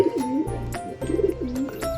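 Pigeons coo inside a cage in a loft, a few soft rolling coos repeating close by in a steady rhythm, with no voices.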